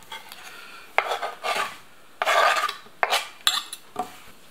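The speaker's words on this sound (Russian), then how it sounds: "Дорезаем наш последний кусочек мяска." A knife chops cooked meat finely on a board for a grape-and-walnut salad, giving a series of irregular scraping, tapping cuts close by, with short pauses between strokes and no talk.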